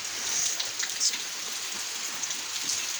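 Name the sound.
heavy rain falling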